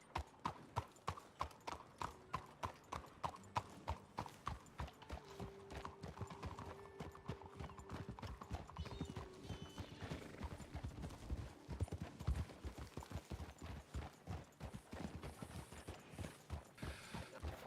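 Horse hooves beat out a fast, regular galloping rhythm in a roleplay video game, close and fairly loud, continuing steadily over a faint mechanical ambience with no talking.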